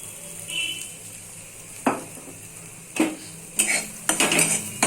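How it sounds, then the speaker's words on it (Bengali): Cauliflower-leaf paste frying in a wok, with a soft, steady sizzle broken by several sharp scraping stirs that come closer together toward the end. "এটা কনস্ট্যান্টলি এরকম নাড়তে নাড়তে এই ভাজাটা এরকম শুকনো হয়ে যাবে।"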